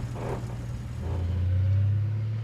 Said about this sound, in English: The trucks finally arrive in the freezing dark.